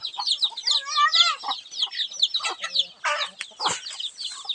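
A flock of Palawan native hens with their chicks cluck and chirp busily at feeding time, a dense overlapping chatter of close clucks and high peeps with no clear talk.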